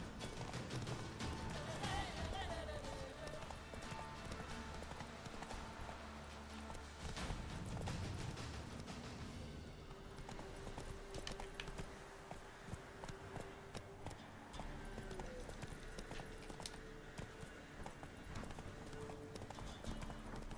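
Roach, Geralt's horse in The Witcher 3, gallops with a steady clip-clop of hooves, mixed with game music and ambient effects throughout.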